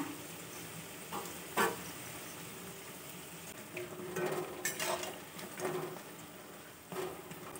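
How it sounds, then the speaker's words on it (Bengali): Food shallow-frying in a pan over medium heat gives a steady, close sizzle with scattered crackles and pops, heard on its own. "আমি একটু মাঝারি আঁচে এগুলো ভেজে নেব"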